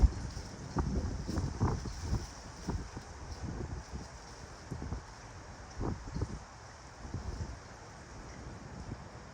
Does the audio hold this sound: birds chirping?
no